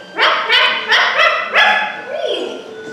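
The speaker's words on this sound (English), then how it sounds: "Don't interrupt when someone's barking." A dog barks in a quick run of four or five loud, close, high yapping barks, then trails off into a softer whine.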